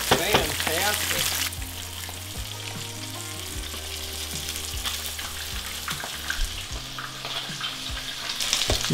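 Steady, loud sizzling and crackling of largemouth bass frying in hot peanut oil, with occasional stirring clinks, continuous throughout.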